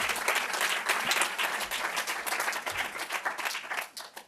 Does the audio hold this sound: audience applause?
yes